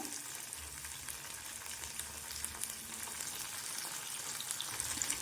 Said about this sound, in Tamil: இப்போது இதெல்லாம் நல்லா வதங்கட்டும்